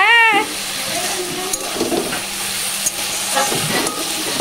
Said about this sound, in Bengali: এখানে হচ্ছে আলু ভাজা পেঁয়াজ দিয়ে